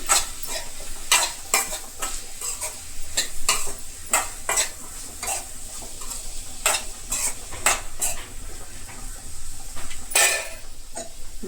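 Cauliflower curry is stirred in a pan after a spoonful of coriander powder goes in. A spoon scrapes rhythmically and clatters against the metal over a light, constant sizzle, loud and close, with no talking.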